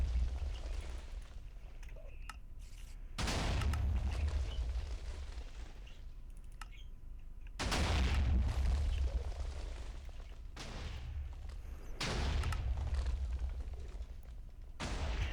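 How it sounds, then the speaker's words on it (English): Several deep booming TNT explosions in Minecraft go off at irregular intervals, each a sudden thud followed by a rumbling decay. "it slams into the diamond and then blows out as cool fireworks in the air"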